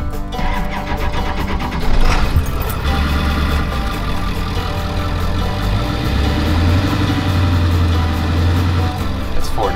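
A converted ambulance engine idles after soundproofing work, a steady low rumble with a constant mid-pitched drone, heard close and fairly loud, the idle rising slightly partway through.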